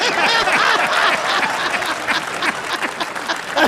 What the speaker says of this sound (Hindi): नहीं, अभी ताली मत बजाओ